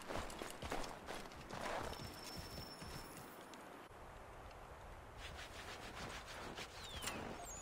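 Horse hooves clip-clop in a steady trotting rhythm in Assassin's Creed III Remastered, moderately close, over a wash of background noise.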